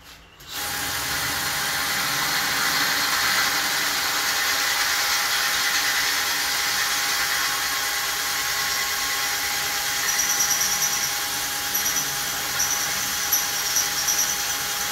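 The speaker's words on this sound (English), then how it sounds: "Oh, gotta drill this hole." A power drill runs continuously through a hole in a workshop beside a plasma table, starting abruptly and grinding on at a steady, loud pitch.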